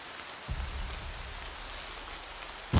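Rain falling in the video game Horizon Zero Dawn, a steady soft hiss of rain that swells slightly, ending with a sharp loud burst.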